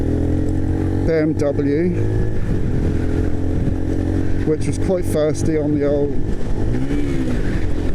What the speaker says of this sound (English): I accidentally revved it while I was changing gear